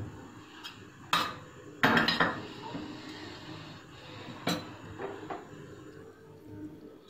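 Spoon stirring amla oil mixed with amla juice in a pot being gently warmed, giving a few loud metallic clinks and scrapes, with softer clatter in between.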